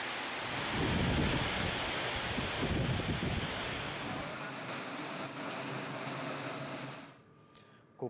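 Heavy rain pours down with thunder and gusting wind as a cyclonic storm lashes Banda town in Sawantwadi taluka; the roar stays loud and steady, easing slightly near the end, with no voices.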